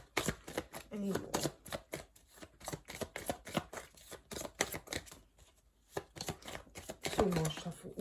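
Tarot cards being shuffled by hand in a quick run of crisp riffling and slapping bursts, close and fairly quiet, with a voice speaking briefly between the shuffles.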